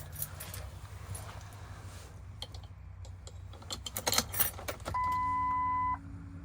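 Keys jangle in a pocket, a brief cluster of light metallic clinks inside a 2003 Ford crew cab dually Power Stroke turbo diesel, over a steady low cabin hum, followed by a sustained electronic beep tone.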